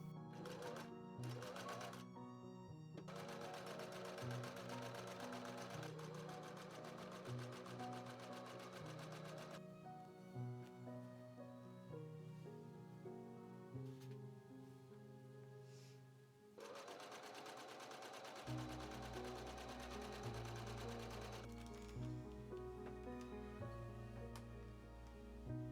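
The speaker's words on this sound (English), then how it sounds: "I then stitched the darts." A sewing machine stitches darts on a Victorian ball gown, its rapid needle chatter running in long steady bursts beneath music, pausing briefly before resuming.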